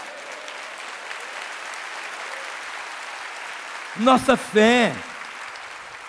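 A church congregation at a Baptist service claps steadily at moderate level, the applause continuing as a brief spoken phrase cuts in near the end.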